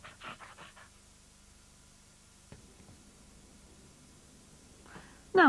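Dog panting in a TV advert for a security phone, quick soft breaths at the start, then quiet background with a brief click and a sharp electronic tone at the end.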